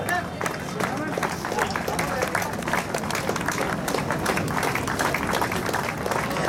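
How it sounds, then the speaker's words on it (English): Loud, sustained applause from a large crowd at a cancer awareness run ceremony, dense clapping continuing steadily throughout with a general murmur of voices underneath. "Keep your applause going"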